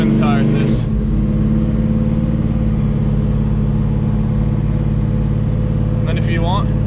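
Heavy, constant low rumble of a 1970 Chevelle's 502 big-block engine while driving, loud and close, with someone speaking over it at the start and end.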